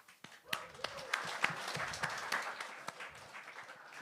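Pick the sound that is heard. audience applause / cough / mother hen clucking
audience applause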